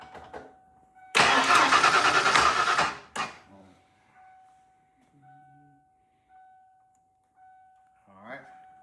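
A car engine being started by a home mechanic: a loud, rough burst of cranking and revving that lasts about two seconds and then cuts off, followed by a steady faint whine, quiet clicks and low voices.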